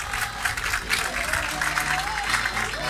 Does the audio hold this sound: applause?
yes